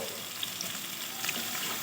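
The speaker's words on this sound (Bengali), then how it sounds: "দিয়ে সুন্দর করে লাল লাল করে পেঁয়াজটা ভেজে নেব" Onions sizzle and fry in a pan with ginger, garlic and green chillies, giving a steady, close hissing crackle with occasional small pops and no talk.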